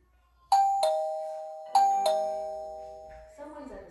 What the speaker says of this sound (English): to ring the doorbell and to see if the chime is ringing